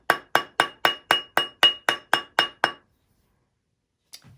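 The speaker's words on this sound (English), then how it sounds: "there's a little bit of a gap, so I'm going to hammer on that section" A metal ring is hammered on a mandrel to true its round shape: eleven evenly spaced, bright ringing strikes in quick succession, then silence and one faint clink.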